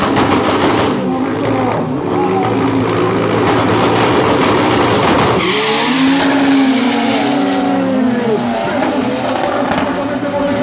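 Front-wheel-drive drag racing car in the free front-drive class making a 201-metre run at the Copa de Las Naciones, its loud engine roaring steadily across the strip with crowd and announcer noise mixed in.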